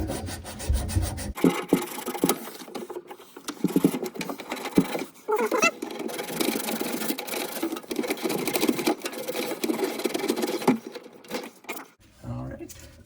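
Abrasive sanding of copper pipe ends before fitting compression angle stops, a steady scraping rub that runs for most of the stretch with brief pauses, close and fairly loud.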